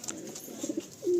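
Pigeons held for sale coo softly nearby in a loft, a low murmuring call that swells into a louder sustained coo at the end.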